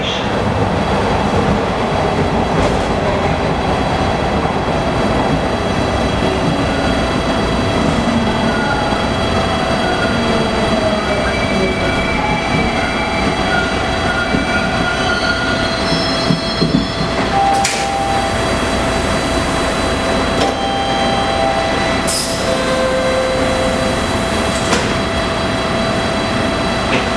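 A TTC Bombardier T1 subway train running between stations, heard from inside as a loud, steady rumble and roar with faint clicks of the wheels over rail joints and a few brief squeals and tones.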